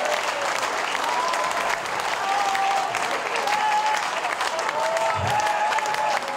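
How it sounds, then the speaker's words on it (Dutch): Steady, dense applause from a large crowd fills the whole stretch, with a few faint whistles rising above the clapping. "Uw applaus voor Ton van der Ven."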